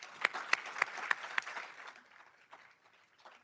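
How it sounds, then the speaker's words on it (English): An audience claps for a panel at a health data conference, a scattered round of applause with a few sharp claps up front that thins out and fades, fairly faint and distant. "so let's give them a round of applause."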